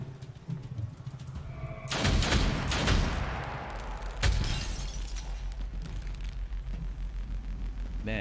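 Gunfire in the gothic fantasy tactics game Othercide: sharp bursts of shots crack out, including a heavy blast around the middle, followed by rattling echoes and a lingering rumble.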